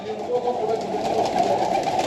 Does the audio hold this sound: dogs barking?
no